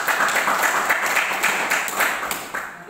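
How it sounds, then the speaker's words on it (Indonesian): Classroom applause from students for a classmate who asked a question, a steady burst of many hands clapping for about three seconds, fairly loud and close, fading slightly at the end. "tepuk tangan untuk siswa yang bertanya"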